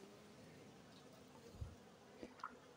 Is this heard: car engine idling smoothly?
no